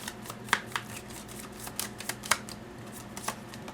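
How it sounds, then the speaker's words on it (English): Tarot cards riffle and slap in a quick shuffle, a series of sharp papery snaps spaced irregularly over a quiet background. "One more shuffle"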